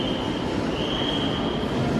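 A train waits at a station platform while a steady rumble and a sustained high metallic whine carry on, close and continuous.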